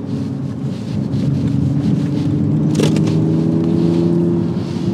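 A new Toyota Supra sports car drives steadily, its engine droning with a rising tone under continuous wind and road noise, loud and close from inside the cabin with no talk.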